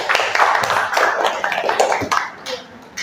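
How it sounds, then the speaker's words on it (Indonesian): A small group in a classroom session claps for a student group's presentation, a short uneven patter of hand claps that wavers and thins out over about three seconds. "Tepuk tangan sekali lagi."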